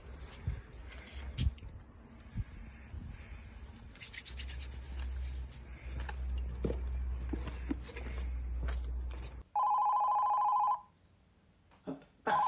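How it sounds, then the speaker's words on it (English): Telephone ringing in a comedy scene, a loud electronic ring bursting in after a stretch of rustling and handling noises, with a second short ring following close by. "That's the phone ringing."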